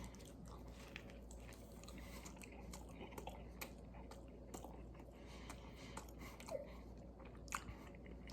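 Someone bites into a Burger King Impossible Croissan'wich sandwich, with quiet close-up chewing and soft crunches, a couple of sharper bite sounds standing out near the end.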